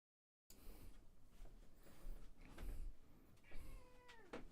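A house cat meows several times in short, separate calls that rise and fall, fairly close and faint against quiet room noise, with no talk.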